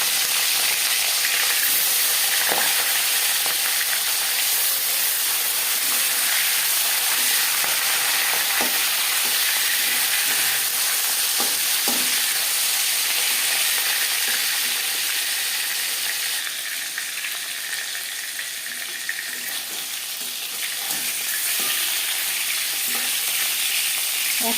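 Marinated katla fish frying in hot oil in a pan for a wedding-style kalia, a loud, continuous hissing sizzle with occasional pops and crackles, close up and without talking.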